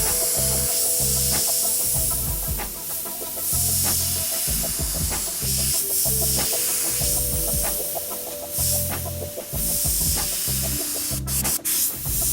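An airbrush spraying paint makes repeated short hissing bursts in an irregular stop-start rhythm, close and fairly loud, with no voices.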